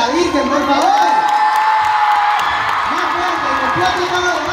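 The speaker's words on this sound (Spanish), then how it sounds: "quiero un fuerte aplauso para la bajada de la Virgen, por favor" A large crowd at a show in Luna Park cheers and shouts loudly, with whoops and applause blending into a dense, continuous roar of voices and clapping close by.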